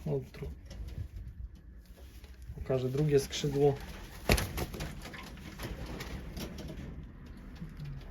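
Pigeons coo in a loft with soft, repeated throaty calls, close and moderately loud, while someone talks over them and a brief clatter sounds mid-way.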